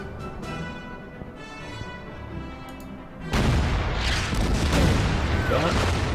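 Artillery fire in the strategy game Order of Battle, a sudden heavy boom that gives way to a sustained, rumbling barrage of blasts, loud and dense, with someone speaking quietly before it starts.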